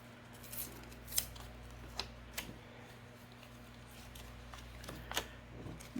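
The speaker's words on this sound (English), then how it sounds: "I'm first going to cut my piece to the size that I want" Scissors snip through paper being cut to size for a handmade envelope book, several quiet, separate crisp snips spaced out at close range against a faint background hum.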